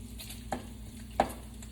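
Par-cooked bacon sizzles in a pan with a soft, steady crackle, broken by two brief stirring scrapes.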